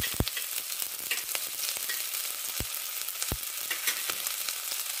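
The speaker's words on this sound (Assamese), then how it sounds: "আৰু তেলখিনি গৰম হ'লে এই কাটি থোৱা পিয়াজ নহৰু আৰু জলকীয়াখিনি" Chopped onion, garlic and chili fry in hot oil with a steady close hiss and crackle. A few sharp utensil taps cut in now and then, and nobody speaks.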